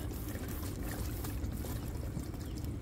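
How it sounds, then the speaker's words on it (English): Steady low rushing flow of water pouring out of an RV black tank sewage line, a continuous dense gush that holds even and close throughout with no voices. "now I'm gonna drain it once again."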